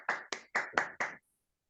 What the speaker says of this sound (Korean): 우리 함께 모두 박수로 환영을 하겠습니다.